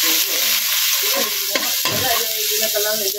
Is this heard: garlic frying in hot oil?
yes